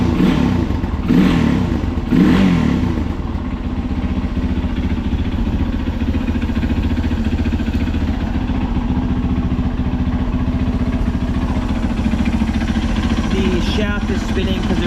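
A Honda XR200R motorcycle engine runs at a steady, near idle with a close, mechanical chug and clatter while a person talks over it, and a few faint clicks come near the end.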